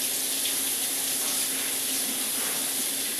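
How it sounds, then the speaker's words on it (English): Hot water gushes from a kitchen tap in a steady, loud, unbroken hiss while a spatula is rinsed under it during bread making. "So I use hot water and rinse off the spatula."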